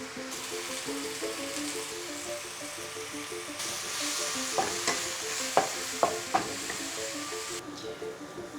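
Steady sizzling of mushrooms frying in a pan, with a few sharp clicks and taps of a utensil against the pan toward the end.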